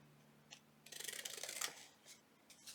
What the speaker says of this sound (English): I'd have to trim a little bit more